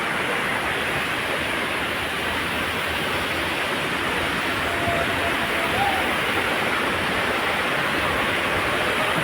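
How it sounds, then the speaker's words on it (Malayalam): The Bavali River rushes in strong current with a loud, unbroken roar of churning water that stays steady throughout. "ബാവലിപ്പുഴയാണ് ഇങ്ങനെ അതിശക്തമായ ഒഴുക്ക് കണ്ടോ"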